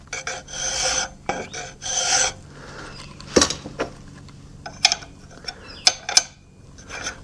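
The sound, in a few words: 11.8 mm drill going through a hole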